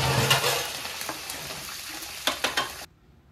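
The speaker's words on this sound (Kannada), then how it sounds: "ಖಾರಕ್ಕೆ ಹಸಿಮೆಣಸಿನ್ಕಾಯಿ ಚಿಕ್ಕದಾಗಿ ಕಟ್ ಮಾಡಿಕೊಂಡು 5-6 ಈಗ ಎಣ್ಣೆಗೆ ಹಾಕ್ಕೊಳ್ಳಿ, ಹಾಗೆ ಸ್ವಲ್ಪ ಕರಿಬೇವನ್ನು ಹಾಕ್ಕೊಂಡು ಚೆನ್ನಾಗಿ ಇದನ್ನು ಫ್ರೈ ಮಾಡ್ಕೋಬೇಕು" Green chillies and curry leaves frying in hot oil for a mandakki oggarane tempering, giving a steady close sizzle with stirring scrapes that cuts off sharply near the end.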